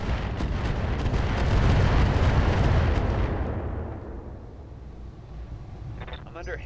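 Heavy weapon fire and explosions rumble through a battle in the mech game Roguetech, a dense, loud barrage of booms that swells over the first few seconds, then thins to a quieter rumble with faint chirping effects.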